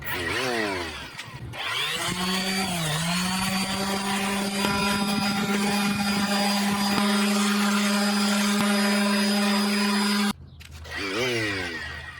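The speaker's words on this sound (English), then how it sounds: "I'm gonna go ahead and just use a regular old sander instead of our belt sander" An ordinary electric sander with 80-grit paper works on scrap wood, spinning up to a loud, steady whine with a gritty rasp, running for about ten seconds before cutting off and briefly starting again.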